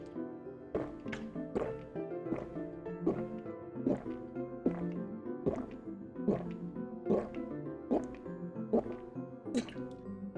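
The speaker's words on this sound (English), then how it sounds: "let me chug" Water is chugged in repeated gulps, a steady series of wet swallowing sounds close up with no talking over it.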